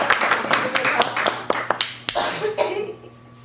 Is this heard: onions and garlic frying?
no